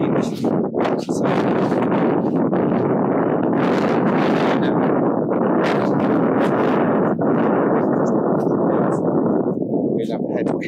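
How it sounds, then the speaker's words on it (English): Strong wind buffets the microphone at a wild camping spot in the fells, a loud continuous rumble with gusting surges throughout, close and overpowering. "the wind is strange"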